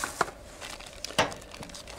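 Plastic packaging around an ACE Clipper professional dry-cleaning stapler crinkles and tears in a few short, close bursts, with quiet pauses between them.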